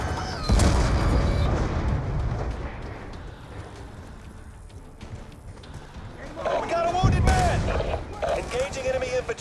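Gunfire and booming blasts from a Call of Duty Black Ops 2 Strikeforce battle at a forward base, loud bursts at the start and again near the end, with radio-style voices talking over the combat.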